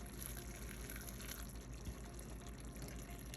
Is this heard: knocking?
no